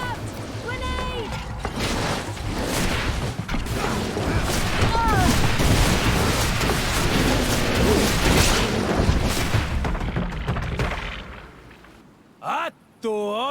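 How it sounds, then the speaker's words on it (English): A grenade blast in GreedFall during a fight on a logging expedition: a loud, sustained rumbling roar that swells and then fades over about ten seconds, with voices shouting around it. "Watch out! Grenade!"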